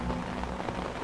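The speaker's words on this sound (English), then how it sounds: "Nothing's worse than waking up in rain." Rain falls steadily on a campsite during a monsoon expedition in Africa, making a brief, even patter of broadband noise with no voices.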